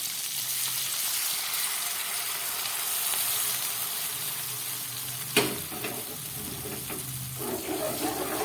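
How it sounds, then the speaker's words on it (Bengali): Warm water is poured into a pan of sizzling pabda fish curry: a steady frying hiss gives way to a sudden splashing burst, followed by churning, bubbling sizzle. "এবার দিয়ে দিচ্ছি আমি এর মধ্যে উষ্ণ গরম জল।"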